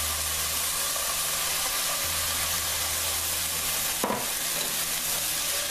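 Potato pieces fry loudly in hot mustard oil in a pan, giving a constant close sizzle and hiss, with one sharp clatter as they are tossed partway through.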